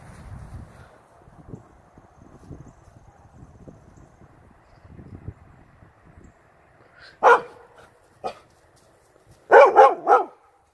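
A Standard Poodle barks at an intruder outdoors, with a few sharp barks at mid-distance and then a quick cluster of several more after a long stretch of faint rustling and wind.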